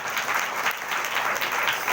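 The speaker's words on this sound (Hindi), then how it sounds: "चलो जोरदार ताली से प्रभु धन्यवाद।" A church congregation at a Sunday prayer meeting claps loudly and steadily, a dense, continuous wash of applause filling the room throughout.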